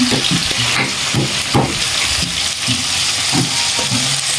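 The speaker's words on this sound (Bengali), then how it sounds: "মাংসের জন্য সব কিছু মশলা দিয়ে আমি এখন নেড়ে দিচ্ছি।" Meat frying with garam masala and ginger paste, a loud, dense sizzle heard up close, broken by repeated rhythmic scraping strokes as it is stirred, with no voices.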